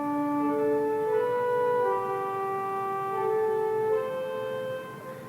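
Sustained organ tones trace the opening phrase of the Latin hymn Ave Maris Stella, several held notes gliding one into the next, soft and steady with a faint background hiss.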